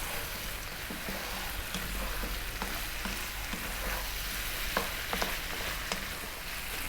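Beef and eggplant frying in a pan while being stirred often: a steady, close sizzle with scattered scrapes and clicks of a utensil throughout.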